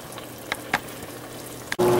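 Wine simmering with onions in a pan for smothered pork chops, a soft steady bubbling sizzle with a few faint clinks, before a louder surge of noise at the very end.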